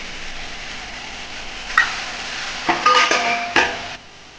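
Shelled peas are stirred into a broccoli and potato curry in a pan, giving a soft sizzle under a few sharp clinks and scrapes of a spoon against the pot, which grow busier toward the end.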